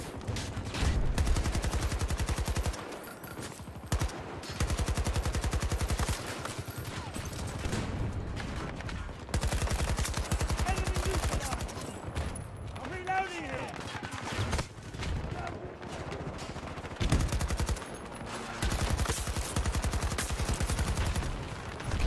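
Rapid bursts of gunfire from the video game Battlefield 2042 during a chaotic Rush match, dense and repeated through most of the stretch, with brief lulls and someone talking over the shots.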